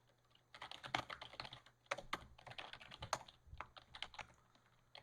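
Computer keyboard typed on in quick, irregular bursts of clicks, with frequent presses of the tab key; close and fairly quiet, no talking.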